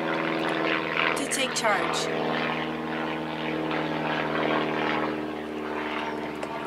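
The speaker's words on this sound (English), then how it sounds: "This airplane is right overhead" A propeller airplane drones steadily overhead, loud and continuous throughout, with a voice talking over it near the end.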